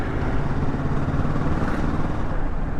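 Kawasaki Z650 motorcycle engine running steadily and loud, a continuous broadband roar as the rider pulls through the gears on the road, no voices.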